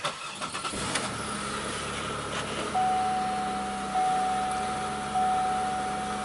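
A 2001 Chevy Impala with an ABS fault cranks and fires up, its engine catching and settling into a steady mid-pitched idle, close and loud, with a few chimes sounding from the dash.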